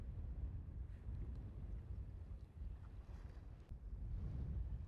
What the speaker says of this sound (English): but it's really, really windy.